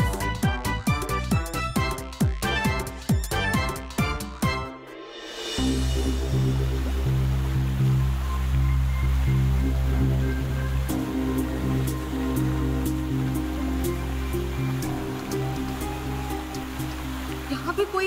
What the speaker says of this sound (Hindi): इस झरने की वजह से आवाज नहीं आ रही है।